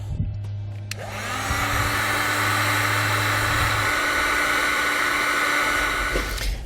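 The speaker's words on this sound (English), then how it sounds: "Now with our heat gun, we can heat up our heat shrink to make a nice seal." Heat gun switching on and blowing steadily as it heats heat shrink tubing on trailer wiring for an LED clearance or side marker light, a loud, close, continuous airy whir that runs for several seconds, then cuts off.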